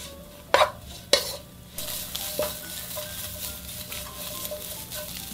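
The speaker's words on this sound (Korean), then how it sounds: "여기 아까 살짝 물기를 건져놓은 북어채를 먼저 볶아주세요." Shredded dried pollack stir-fried in perilla oil sizzles softly in a pan, with a few sharp scrapes and clacks of a utensil stirring near the start, then a steady crackling fry.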